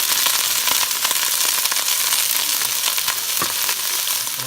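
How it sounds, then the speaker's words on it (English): Cabbage sizzles in hot extra virgin olive oil in a pan, a loud, dense, continuous frying crackle with occasional stirring scrapes. "I'm gonna go ahead and saute some cabbage in here."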